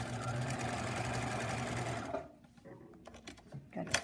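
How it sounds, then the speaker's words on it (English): Sewing machine stitching the long sides of fabric at a quarter-inch seam, a steady loud whirring run that stops abruptly partway, followed by quieter handling sounds and a voice. "we're going to sew the two long sides at 1/4 inch right along the edge using the presser foot as our seam allowance"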